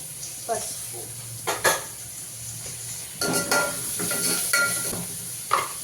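Ginger garlic paste frying in a pan, a steady close sizzle broken by short bursts of stirring and the clink of a utensil against the pan.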